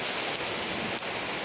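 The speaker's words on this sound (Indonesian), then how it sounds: "ada hujan yang sangat besar guys" Heavy rain pouring down in the Kangkareng area, a dense, steady hiss of downpour filling the whole clip, close and loud, with no voices.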